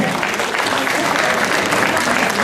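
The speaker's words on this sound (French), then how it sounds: "On peut les applaudir avec l'ensemble des participants." Steady, dense applause from a full audience at a gastronomy fair cooking competition in Le Mée-sur-Seine, clapping continuously at an even level throughout.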